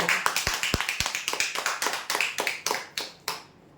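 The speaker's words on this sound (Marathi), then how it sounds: "जोरदार टाळ्या" A crowd applauds a lucky draw winner at a prize draw event. The clapping is loud, close and quick, with a few sharp individual claps standing out, then it tapers off and stops near the end.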